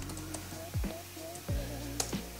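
Typing on a computer keyboard during a map search, a short run of soft key clicks with a couple of louder taps, close and alone with a faint background hum.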